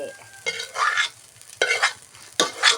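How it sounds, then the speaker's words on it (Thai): Cucumber stir-fried with glass noodles and egg in a pan, heard as three separate bursts of scraping and sizzling with quiet pauses between them, close by, with no talking. "ผัดแตงใส่บุ้นเส้นใส่ไข่ด้วย"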